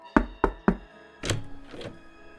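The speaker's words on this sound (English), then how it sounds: "they received a knock at the door." Three sharp, evenly spaced knocks strike a wooden front door up close, followed by a duller thump and a softer scraping shuffle.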